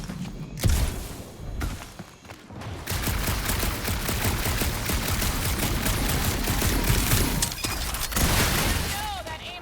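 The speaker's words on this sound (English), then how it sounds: "That aimless shooting isn't gonna scare the monsters away, right?" Rapid gunfire from the Guardians of the Galaxy video game, sustained bursts of shots running through most of the stretch beneath game voices and effects.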